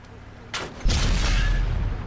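A tank's main gun fires a blind shot in World of Tanks, heard as a single heavy, booming blast with a sharp crack that swells into a long rumbling tail, preceded by a faint click.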